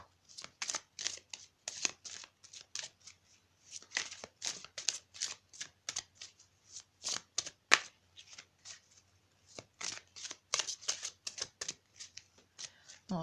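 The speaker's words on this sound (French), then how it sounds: "Alors on va continuer de mélanger un petit peu." Tarot cards riffled and shuffled by hand in short repeated bursts of crisp papery flutter, close and fairly quiet, with brief pauses between the runs.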